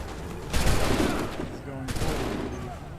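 Two musket volleys crack out in Assassin's Creed III, a thick rolling burst of massed gunfire followed about a second later by a second crackling volley under lingering battle noise.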